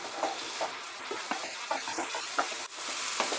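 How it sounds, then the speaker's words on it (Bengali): Spice paste for kadai chicken sautéed over medium heat with a splash of water in a pan, giving a steady soft sizzle with quiet scraping stir strokes recurring throughout. "মিডিয়াম আঁচে এবার আমি মশলাটাকে কষিয়ে নিচ্ছি"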